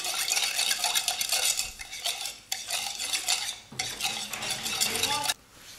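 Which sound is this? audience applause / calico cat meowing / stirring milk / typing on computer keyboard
stirring milk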